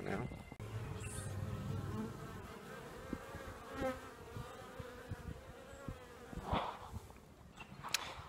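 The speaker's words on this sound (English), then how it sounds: "Going to see some bees." Bees buzz near a hive entrance outdoors, a steady dense drone of many insects with individual passes rising and fading, close and continuous throughout.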